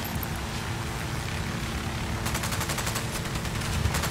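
Gunfire in Ghost Recon Wildlands, a continuous roar of in-game action that breaks into rapid, sharp automatic bursts in the final two seconds, loud and close.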